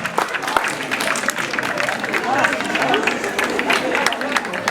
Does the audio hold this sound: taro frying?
no